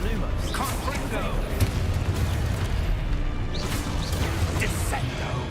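The Confringo fire-blast spell in Hogwarts Legacy, a series of booming bursts over constant busy combat noise, with a voice talking throughout.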